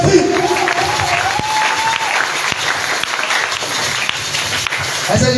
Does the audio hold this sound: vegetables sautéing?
no